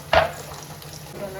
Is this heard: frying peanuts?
yes